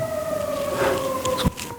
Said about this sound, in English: Crazy sirens.